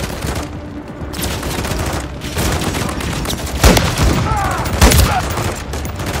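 Sustained gunfire fills a Call of Duty: Modern Warfare 3 campaign battle: loud, dense automatic bursts and heavy booms roll on continuously, with a shout or two breaking through the din.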